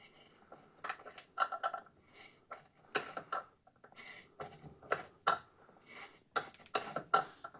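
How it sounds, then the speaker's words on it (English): A hand tap cutting threads into aluminum makes faint, close, irregular metallic ticks and clicks as it is worked forward and back in short bursts, with quiet gaps between them. "as we're cutting threads, we want to go about a half a turn forward, and then we'll go half to 3/4 back"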